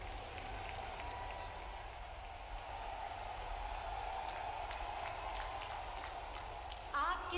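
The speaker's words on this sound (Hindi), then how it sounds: "जोरदार तालियां बजाएं।" A large outdoor crowd at a government foundation-stone ceremony claps continuously, a dense rain-like wash of applause filling the whole stretch at steady volume.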